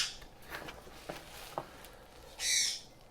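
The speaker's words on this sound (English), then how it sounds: "I got my bird squawking." A pet bird squawks indoors in a room during an unboxing of a smart video frame, giving a few sharp separate calls and then one loud, longer, shrill squawk near the end, with no talking.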